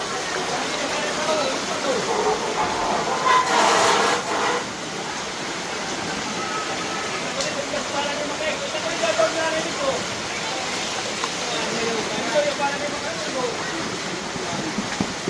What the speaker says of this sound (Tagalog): Ganun kalakas yung agos.